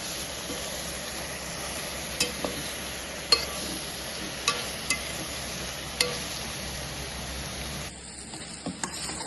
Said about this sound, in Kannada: ಈ ರೀತಿ ಎಣ್ಣೆಯಲ್ಲೇ ಫ್ರೈ ಮಾಡಬೇಕು.